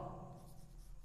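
Pen writing on paper during a class 6 maths lesson, a brief soft continuous scratch, faint and close, with no speech over it.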